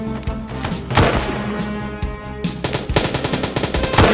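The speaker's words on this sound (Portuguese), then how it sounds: "E o cara tá fuzilando ele." Gunfire in the video game DayZ: loud close bursts of rapid automatic shots, with a pause and a heavier thump between volleys, no talk.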